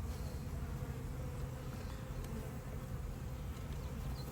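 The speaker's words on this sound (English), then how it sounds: "We got a few bees flying around our head and stuff like that" A steady, close buzzing of honeybees during a hive inspection hovers and drifts, several insects droning at once with no voices.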